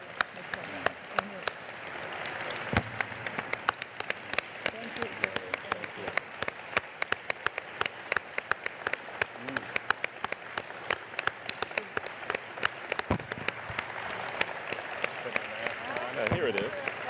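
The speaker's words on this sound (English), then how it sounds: "So let's have a huge round of applause" A modest audience at a summit closing ceremony in Cancun claps with scattered, distinct hand claps close by, and voices murmur underneath.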